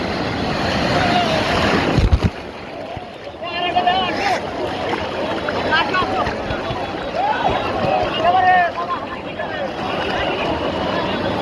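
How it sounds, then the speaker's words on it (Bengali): Large ocean waves break and wash up on the beach at Cox's Bazar, a continuous loud roar of surf with wind buffeting the microphone, while someone talks over it. "কত উচ্চ ঢেউ"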